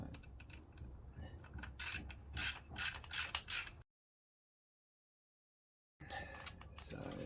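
A ratchet tightens a bolt on a Kawasaki ZX6R J2 motorcycle: quick bursts of close, sharp mechanical clicks, a pause of a couple of seconds, then more clicking.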